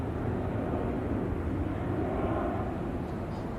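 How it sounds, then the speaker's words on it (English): A Ryanair jet departs for Belfast from a Manchester airfield, a steady, even low rumble of engine roar at moderate distance with no clear rise or fade over a few seconds. "That was Ryanair off to Belfast"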